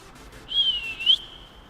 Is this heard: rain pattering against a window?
no